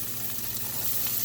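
Spinach and vegetables sizzling in a pan as they are flipped, giving a steady dense fry hiss, close and continuous, with no voices.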